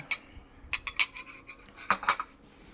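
A plastic cup lid snaps on with several sharp, close clicks in small clusters, crisp against a quiet background.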